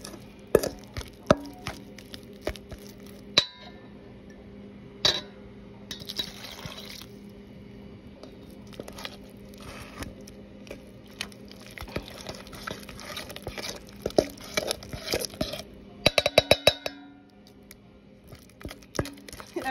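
Nupur henna powder being mixed with water in a bowl: wet stirring and scraping with clicks and soft splashy taps, fairly close, with no talking.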